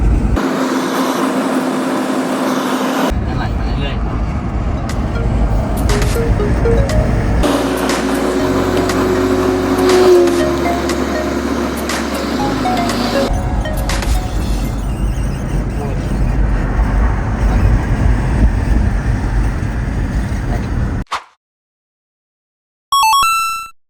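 A Toyota Revo diesel pickup engine hums steadily with road rumble while driving, people talking over it, ending in a brief silence and a few chimes.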